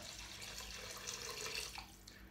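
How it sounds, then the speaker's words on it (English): About half a pint of water poured into a simmering vegetable curry in the pot, a soft, continuous splashing pour, faint and close. "What I'm going to add to it now is about half a pint of water."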